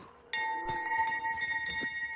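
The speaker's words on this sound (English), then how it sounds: "I'm ringing the goddamn dinner bell." A dinner bell rings in a video game, a bright sustained metallic tone with ringing overtones starting sharply and holding steady, with a few soft thuds and movement sounds around it.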